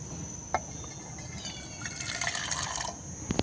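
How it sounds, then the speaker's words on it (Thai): Car headlight coating liquid poured into a cup, a quiet trickling and filling sound that swells toward the end, with a faint click near the start and a knock at the close. "นี่เป็นน้ำยาที่จะใช้เคลือบกระจก เคลือบไฟหน้านะครับ เติมใส่ลงไปในแก้วนะ"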